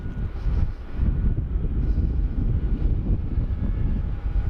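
A Jetstar airliner passes at Sydney Airport with a loud, sustained low-pitched roar, close by and steady throughout, mixed with some wind buffeting on the microphone.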